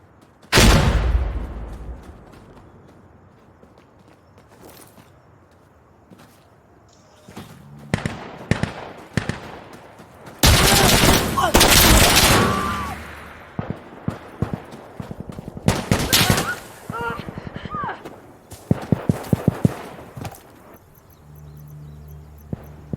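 Gunfire in the video game Insurgency Sandstorm: after a single loud shot, several rapid machine-gun bursts rattle out in clusters of sharp cracks, some long and sustained, others short, all loud and close.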